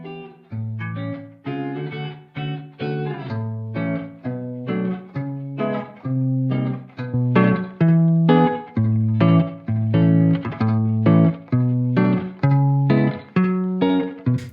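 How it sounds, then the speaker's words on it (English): A reverb-only signal from an Ibanez hollow-body guitar with flatwound strings carries a slow, steady melodic line of plucked notes, each softened and smeared into a washy tail. The sound is fairly loud and full, with no talking. "The reverb on its own sounds like this."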